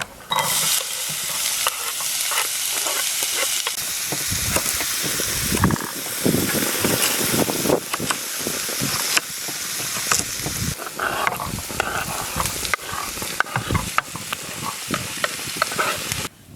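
Diced onion sizzling and crackling steadily in a hot pan over a campfire on a riverbank, with occasional stirring scrapes, loud and close throughout.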